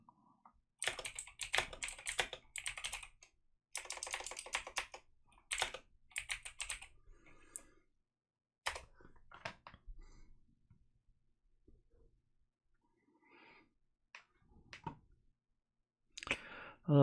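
A computer keyboard clatters in quick, close bursts of typing, with several dense runs of keystrokes early on and then sparser, scattered clicks with quiet gaps.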